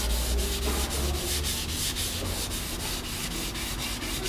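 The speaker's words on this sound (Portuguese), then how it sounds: "Agora partiu, começar a fazer o lixamento aí, né? Taquear bem com a lixa 320." Dry hand sanding of car primer with 320 grit sandpaper, a loud, close, continuous scratchy rubbing in quick back-and-forth strokes with no voices.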